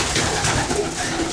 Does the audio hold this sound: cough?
no